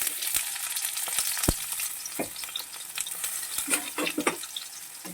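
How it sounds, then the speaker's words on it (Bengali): Chopped onion frying in hot oil in a wok, a steady close sizzle broken by sharp scraping knocks of a spatula stirring, with no voices. "পেঁয়াজগুলোকে হালকা ভেজে নেব"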